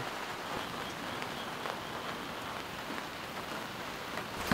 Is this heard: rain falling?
yes